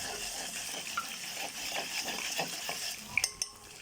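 Lisan asfour (bird's tongue) pasta stirred in hot frying oil in a pan for Egyptian mahshi: a steady soft sizzle with scattered scraping utensil strokes and a few sharp metallic clinks near the end.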